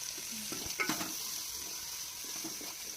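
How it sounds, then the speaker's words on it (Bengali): Beef and onions fry in a pan for a home-style Bengali beef curry with sweet pumpkin. A faint, even sizzle runs throughout, with a few soft scrapes and knocks as the mixture is stirred. No voices. "দেন পেঁয়াজটা যখন লাল হয়ে যাবে, আস্তে আস্তে নেড়ে নেড়ে যখন লাল হয়ে যাবে, তখন আমরা আগে থেকে জাল করা মাংসটা দিয়ে নেব"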